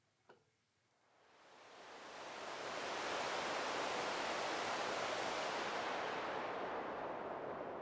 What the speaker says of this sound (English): So I like brown noise. It's a little bit darker. It sounds like this.